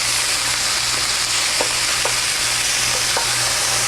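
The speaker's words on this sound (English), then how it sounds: "You'll want to break apart the pork pieces as you brown them." Pieces of pork for mapo tofu brown in a hot pan with a loud steady sizzle. A few soft knocks come as the meat is broken apart, with a low hum underneath and no talking.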